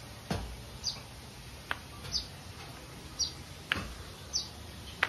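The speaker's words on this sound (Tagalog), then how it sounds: "Ay, may ibon." Small birds chirp nearby in a series of faint, brief high tweets, about seven spaced irregularly over a quiet indoor background hum.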